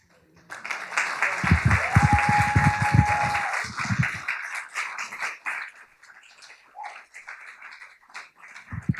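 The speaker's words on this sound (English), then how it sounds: "And keep that applause going for your next poet, Kim." Audience applause at a poetry open mic night, clapping and cheering through the first half beneath voices, then fading while people talk.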